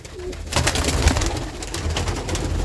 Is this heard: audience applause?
no